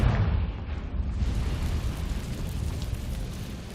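A Confringo blasting spell explodes in Hogwarts Legacy, a heavy low boom that rumbles and crackles steadily for a few seconds without any voices over it.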